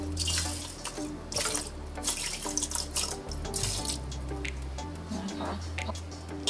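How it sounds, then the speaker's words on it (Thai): Water pours into a rice cooker pot for durian sticky rice, a steady close splashing and trickling stream with a few drips as the flow changes. "แล้วเรามาตวงน้ำกันค่ะ เราจะใช้น้ำนะคะอีก3ส่วน4ถ้วยตวงค่ะ ใส่ลงไปค่ะ"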